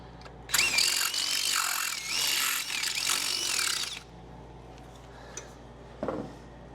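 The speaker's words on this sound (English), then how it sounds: "let me just run that drill through it one more time." A power drill run through a fabricated ram air tube part on a 1967 Firebird, one loud whirring and grinding burst lasting about three seconds, then quiet with a brief later buzz.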